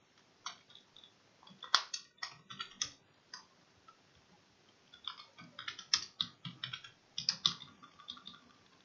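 Keystrokes on a computer keyboard come in short bursts of quick clicks separated by pauses, fairly close and moderately loud in an otherwise quiet room.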